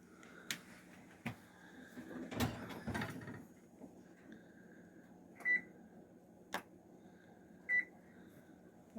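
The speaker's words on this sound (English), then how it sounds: "That's the delicious cornbread coming out of the oven." A pan of cornbread being pulled from a home oven, with a few soft clunks and rattles of the door and pan, a short clatter, and two separate electronic timer beeps in a quiet kitchen.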